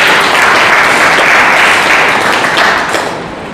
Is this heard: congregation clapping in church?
yes